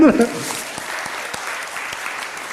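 Audience applause breaking out at a spiritual talk on inner reflection, a steady patter of clapping hands running evenly after a brief opening voice, with a few sharper claps standing out.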